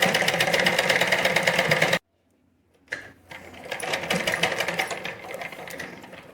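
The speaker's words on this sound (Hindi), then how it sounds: "ऐसे करके मैं स्टिच चला दे रही हूँ इसमें" A sewing machine runs fast and steady, stitching a 1.5-inch fold of fabric for an elastic casing on a sharara, stops abruptly for about a second, then whirs back up in quick rhythmic bursts.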